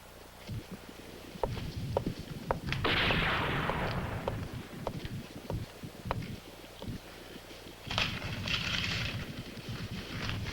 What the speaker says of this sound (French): On dirait un fusil de chasse.